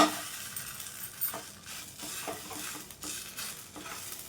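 Dibba rotti made from idli batter cooks in a pan over medium or low heat, giving a soft, steady sizzle with a few faint scraping touches, quiet and close.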